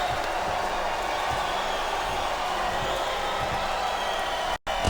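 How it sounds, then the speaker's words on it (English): A big arena crowd at WrestleMania 23 during The Undertaker versus Batista keeps up a constant wash of cheering and roar, with faint commentary beneath and a brief dropout near the end. "I love hearing a crowd come alive"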